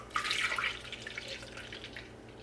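Unsweetened almond milk pours into a container, about eight ounces, a steady liquid stream that starts splashy and settles into a softer trickle, close and fairly loud, with no talk.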